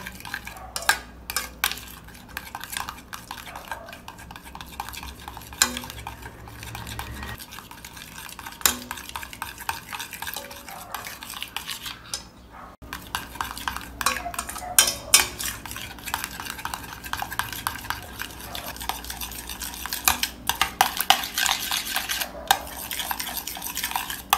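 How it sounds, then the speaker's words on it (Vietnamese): A spoon stirs soap into a homemade skin-whitening mask mixture in a bowl, giving a steady run of scraping and clinking against the container, close and continuous, with no talk. "Chúng ta sẽ cho xà phòng vào đây. Các bạn đảo thật đều."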